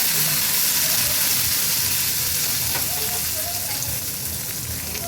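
Hot tempering with asafoetida hits a cucumber tambuli and sizzles, giving a steady, bright hiss that fades slightly over a few seconds.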